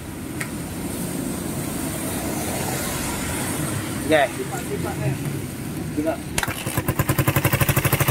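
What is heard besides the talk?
2008 motorcycle engine starting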